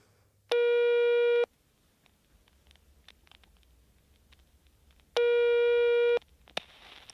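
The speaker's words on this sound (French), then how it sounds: "Il décroche l'appareil et compose le numéro." A telephone busy signal sounds after a number is dialed on a handset: two loud, steady tone bursts about a second long, spaced several seconds apart, with quiet line hiss between them.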